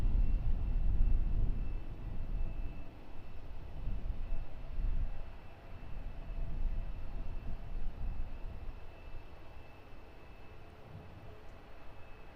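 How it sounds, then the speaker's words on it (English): A Ryanair Boeing 737 MAX 8 jet at London Luton Airport, heard as a steady, broad, low engine roar that rises and falls slightly and holds at a moderate distance throughout, with no talk. "This is the Malta-bound Ryanair 737 MAX 8."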